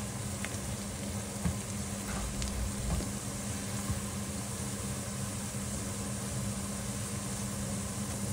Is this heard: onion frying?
yes